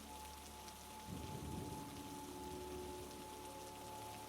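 Soft, steady rain falling on a winter evening, a faint continuous patter with a slightly fuller wash of drops after the first second, quiet and even throughout.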